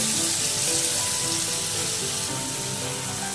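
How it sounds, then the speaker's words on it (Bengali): Capsicum frying lightly in a pan with two cloves and a small piece of cinnamon, giving a steady, close, continuous sizzle and crackle with no talking. "লবঙ্গ দিয়েছি দুটো ও দারচিনি একটা ছোট মাপে দিয়ে আমি ক্যাপসিকামগুলিকে হালকা করে ভেজে নিলাম"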